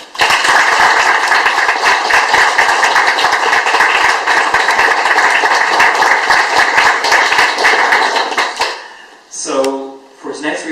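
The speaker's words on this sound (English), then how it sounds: "let's have a round of applause" An audience at a magazine issue reading applauds loudly and steadily for several seconds with dense, overlapping claps, then fades out as a voice begins speaking.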